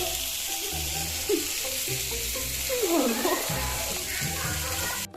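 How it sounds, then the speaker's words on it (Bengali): Hot cooking oil hisses and sizzles steadily after water is poured into it, a bright continuous crackle heard close up with voices talking underneath. "তেলের মধ্যে দিয়ে দিয়েছে জল"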